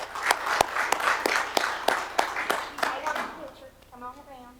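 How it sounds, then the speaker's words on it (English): A small meeting room breaks into a round of applause, a few distinct hand claps at a moderate distance fading after about three seconds, followed by a quiet voice. "Let's please give them a round of applause."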